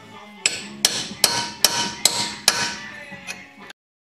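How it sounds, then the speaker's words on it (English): A hammer strikes a chisel to pop off the ball joint on a 1992 Ford F-150, seven sharp metallic blows at a steady pace about every half second, close and clear, then silence. "And once I get it cracked open, I can take a chisel on both sides, run it down, and get that thing to pop off."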